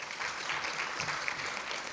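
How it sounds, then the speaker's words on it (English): Audience applause at a conference session on security strategy, steady clapping from a seated crowd sustained through the whole stretch at moderate, slightly distant level. "Let's give them another round of applause"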